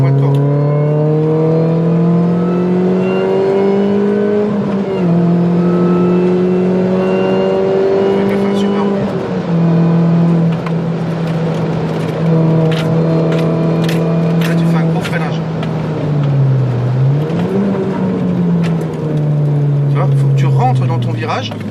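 A car engine drones loudly on a racing track, its pitch climbing steadily under acceleration and dipping briefly before rising again, heard from inside the car while a driver speaks over it.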